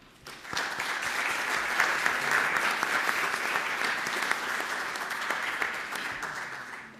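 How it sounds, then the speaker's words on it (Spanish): Sustained applause from a crowd, steady and dense clapping that swells in quickly and holds at an even level throughout. "Para todos ustedes, respetuosamente, suplicamos sus aplausos."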